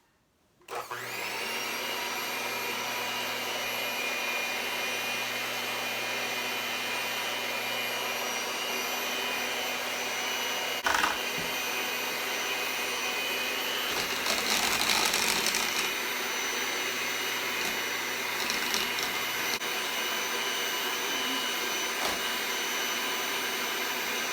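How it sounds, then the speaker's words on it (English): Electric hand mixer beating strawberry shortcake batter, starting abruptly and running as a steady high whirring drone for over twenty seconds, with brief scraping rattles against the bowl partway through. "right now I'm doing like a electrical mixer"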